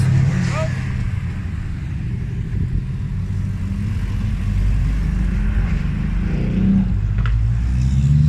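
A Ferrari's engine rumbles steadily and loudly nearby at an outdoor car meet in Fleury-les-Aubrais, a continuous low drone with slight surges, and voices are heard faintly over it.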